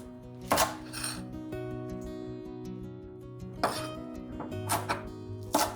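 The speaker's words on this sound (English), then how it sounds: "Cut into diamond-shaped pieces" Garlic leaves being cut into diamond-shaped pieces with a knife on a board: a few crisp, separate chops land at uneven intervals over soft background music, and no one speaks.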